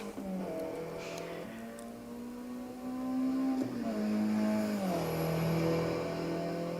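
A race car engine in the video game Assetto Corsa Evo drones and shifts pitch steadily, with smooth revving changes as it speeds up and eases off, no voices present.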